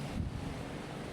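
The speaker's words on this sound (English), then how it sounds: "the wind is very strong now" Strong wind gusts across an outdoor street in the An Thuong area of Da Nang, Vietnam, producing a steady, loud, rumbling roar with a heavier buffeting burst near the start and no voices.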